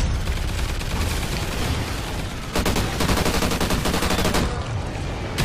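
Upgraded turret in the Call of Duty Ghosts Extinction game, rapid automatic fire rattling on loud and close for several seconds, with a brief stutter partway through and no talk.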